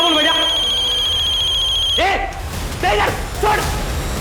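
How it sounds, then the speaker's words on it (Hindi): A phone rings with a steady electronic trill for about two seconds, then cuts off as voices start talking over background noise. "किसका फोन बजा बे? किसका फोन बजा?"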